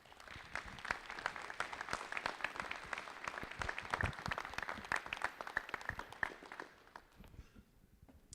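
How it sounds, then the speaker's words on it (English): An audience applauds the general manager of the Charlottetown Islanders hockey team at a live event, with sustained dense clapping from a distance that thins and fades out toward the end. "Give a nice round of applause for Grant Sonier,"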